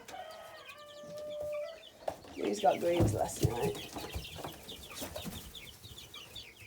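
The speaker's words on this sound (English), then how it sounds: "Looks like 2 boy Brahmas, 2 girl Brahmas." Brahma chickens in a pen, two roosters and two hens, clucking in short bursts close by while someone talks over them throughout.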